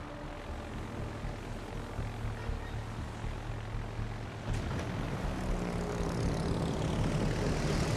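A propeller plane's engine in an aircraft carrier video game, a sustained droning roar that grows louder and fuller about halfway through, with no voices over it.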